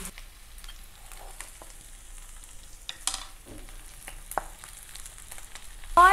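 Chicken pieces frying in a hot pan for tandoori momos, a quiet steady sizzle with scattered crackles and occasional spatula stirs and scrapes, a brief louder clatter at the very end.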